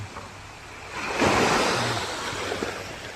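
Sea waves at Ole Beach wash in with a broad rushing swell that builds and then slowly recedes, steady surf noise close by with some wind.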